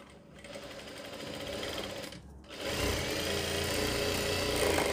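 Sewing machine stitching a front neck design on a garment in a tailoring boutique; a steady, close mechanical whirr that pauses briefly, then resumes louder and continues, with no speech over it.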